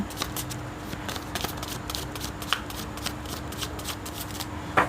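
Tarot cards are shuffled close by in repeated quick riffles and slides, with soft papery bursts and a few sharper snaps against a faint background hum.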